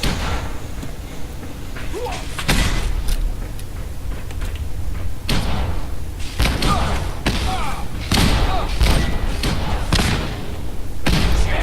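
Heavy grenade explosions from Fallout 4 survival-mode combat, several deep booming thuds hitting in bursts over steady game noise and ambience, loud and close.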